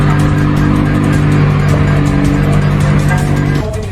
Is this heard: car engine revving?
yes